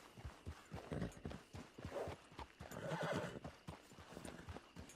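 Horse hooves clop in a steady rhythmic gait as a rider travels in Red Dead Redemption 2 Online, with a whinny mixed in; quiet and close, with no talking.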